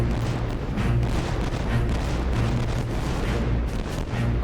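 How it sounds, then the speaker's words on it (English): A French 74-gun warship fires ranging shots toward the Royal Sovereign in a 3D recreation of the Battle of Trafalgar: dense, rumbling cannon fire rolls on continuously and loudly with no clear gaps. "gunfire starts at noon, with the French 74 Fougue firing ranging shots towards Royal Sovereign."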